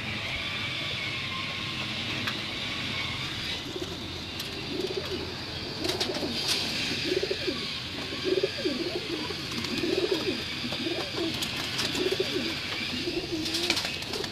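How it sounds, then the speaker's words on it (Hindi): Flying pigeons coo close by in a series of soft, repeated low calls, with occasional chirps and steady background hiss around them. "ये प्रवासी कबूतर है"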